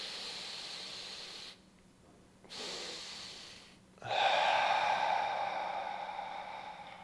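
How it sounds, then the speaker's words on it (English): Yoga double-inhale breathing: a sustained airy exhale, a pause, two quick sniffing inhales, then a long, louder breath out through the nose, close and alone. "Let's go for this double inhale"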